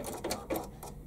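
A Bernina sewing machine stitches a hem with a blind-hem stitch, giving a few short uneven bursts of whirring needle action over about a second, close and fairly quiet.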